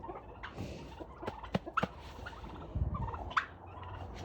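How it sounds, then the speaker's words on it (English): Turkeys gobble in short bursts nearby, with a few sharp calls and rustling in between, no talk. "Here, turkey, turkey, turkey,"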